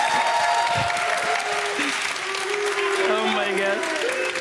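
Fans at an esports event cheer and applaud loudly and steadily throughout, a dense crowd roar with clapping, while voices talk over it.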